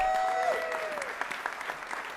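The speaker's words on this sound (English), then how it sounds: "Can we give her another round of applause?" An audience at a New York bill signing for lower NYC speed limits breaks into applause, a steady burst of clapping that tapers off over a couple of seconds, with a faint voice underneath.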